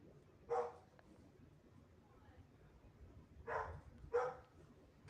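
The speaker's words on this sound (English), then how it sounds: "Somebody triggered my dog." A dog indoors in a small office, giving a few short, sharp barks, one early and a pair near the end, fairly faint against quiet room noise.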